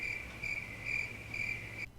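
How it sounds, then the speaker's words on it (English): A cricket chirps in steady, evenly spaced trills, loud and close against a low background hum, stopping abruptly just before the end. "Because they were chasing a cricket."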